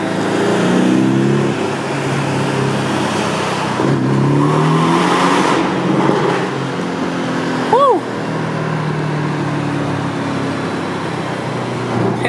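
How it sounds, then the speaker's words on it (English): A car engine revs and accelerates through a short road tunnel, with a Volkswagen Jetta racing nearby; a loud, steady engine roar swells and echoes, and people talk over it. "that guy in that Jetta wanted to race"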